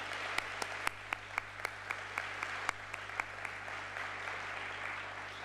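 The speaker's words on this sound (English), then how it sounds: "Can we have a round of applause for our chairman and his wife?" Applause from the audience at the closing plenary of a peace convention, fairly faint with a steady wash of clapping, a few sharp individual claps standing out, and a low hum underneath.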